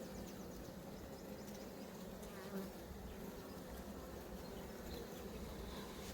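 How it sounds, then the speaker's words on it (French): A dense, continuous buzz of honey bees fills the air at a wild swarm hive, steady and close throughout, with no voices. "Là, il y a plein d'abeilles."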